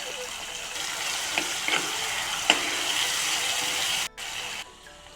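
Ginger and chili paste sizzling and frying in hot oil in a pan for palak paneer, a steady close crackle with a few sharp spatters and stirring clicks, cutting out briefly near the end.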